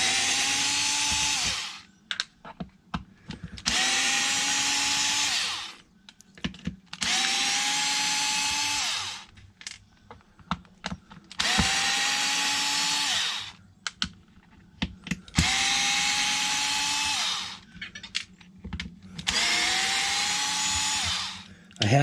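Power drill spinning out screws from an RC car, six long whirring bursts of a few seconds each, separated by short pauses with small clicks and handling noises, loud and close.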